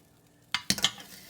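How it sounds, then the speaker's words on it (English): Cauliflower dropped into a hot oiled pan for keto mac and cheese: a quiet lead-in, then two or three sharp clattering impacts with a brief sizzle, close and loud. "Okay, so at this point we're going to put our cauliflower in."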